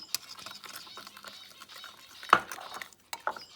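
Yeast mixture for hot cross buns is stirred in a bowl, giving soft scraping and a few sharp clinks of a utensil against the bowl, quiet and close with brief pauses.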